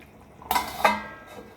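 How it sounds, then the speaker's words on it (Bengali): A lid set down on a pan of jackfruit and prawn curry, giving a single close metallic clink followed by a second knock as it settles, with no talk. "এবার আমি এটা ঢেকে দেবো বন্ধুরা"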